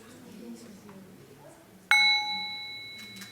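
A meditation bell in a Plum Village dharma practice is woken with a single half sound: one clear struck ring that decays slowly, heard near and alone after soft room murmur.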